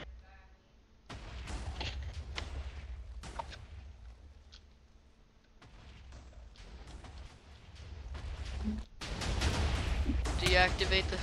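Minecraft TNT blows up in a video game as a string of booming, crackling blasts, louder and denser toward the end, while players talk over the explosions.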